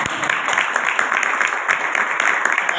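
An audience in a hall keeps up steady, dense applause, a continuous roar of many hands clapping at close to medium distance, with no voices on top.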